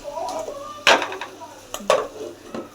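A lid is set back onto a cooking pot of onions for chilli prawns, giving two sharp metallic clanks over soft stirring and a faint sizzle.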